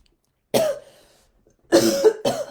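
Someone coughs once, then twice more in quick succession, close and loud, with silence between.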